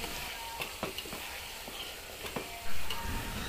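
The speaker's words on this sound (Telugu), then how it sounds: "కాస్త టమోటా మెత్తబడ్డాక అల్లం పేస్ట్ను వేసి బాగా కలుపుకొని కొంతసేపు కుక్ చేసుకోవాలి" Ginger paste is stirred into softened tomatoes cooking in a pan, giving a soft steady sizzle with scattered scrapes and clicks of the spoon and a louder burst of frying near the end, with no voices.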